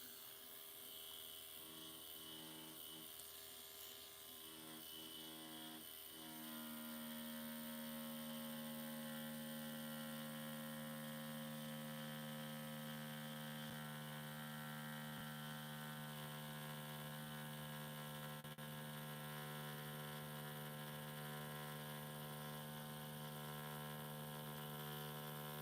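Tattoo machine buzzing while its needle lines a mandala tattoo, a steady high electric drone that shifts pitch as it starts working, close and continuous.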